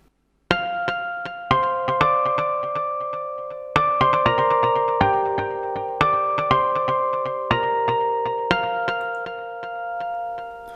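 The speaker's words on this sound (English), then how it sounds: "just run the electric guitar and bass guitar harmonics" Bell-like electric guitar and bass guitar harmonics ring out one after another in a slow, sparse pattern, each chime sustaining and fading over the next, clear and alone.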